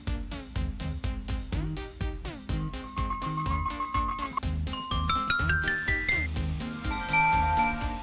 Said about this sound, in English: they ask us for a small bells effect